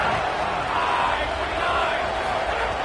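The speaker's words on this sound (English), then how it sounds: "Crowd getting this defense whipped up on 3rd down." Stadium crowd at a college football game roaring on third down to rally the defense, a loud continuous wash of cheering and shouting that holds steady throughout with no clear break.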